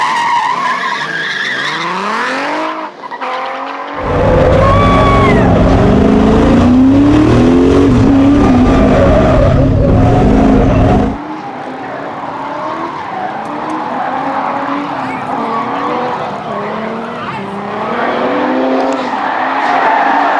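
A Lexus SC300 drifts, its engine revving hard and its tires squealing loudly in long sustained screeches that rise and fall over about twenty seconds, close and continuous.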